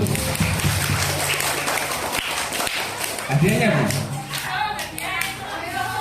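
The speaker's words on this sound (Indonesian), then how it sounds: "Kasih tepuk tangan dulu" At a religious lecture on Isra Mi'raj, a small audience claps in scattered, uneven bursts while voices talk and call out over it, close and lively.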